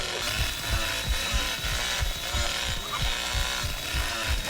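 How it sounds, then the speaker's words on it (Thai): A chainsaw wielded by Leatherface in The Texas Chainsaw Massacre video game snarls and grinds in repeated rhythmic bursts, loud and close, with a steady rasping buzz throughout. "เลื่อยพี่นี่มันแรงมากนะน้อง"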